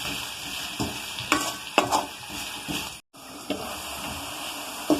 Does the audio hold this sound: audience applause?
no